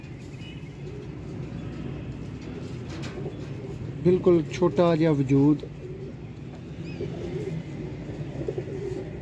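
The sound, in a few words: pigeons cooing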